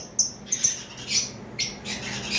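Caged pet parrots at a lovebird sale squawk in short, sharp bursts, several shrill calls spaced across the moment at moderate, fairly close level.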